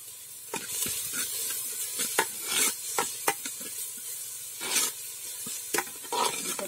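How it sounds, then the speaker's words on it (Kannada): Spices for a village-style egg curry fry in a pan, with a soft steady sizzle broken by repeated scraping stirs of a spoon, close and moderately loud, with no talking. "ಸ್ವಲ್ಪ ಫ್ರೈ ಆಗಬೇಕು."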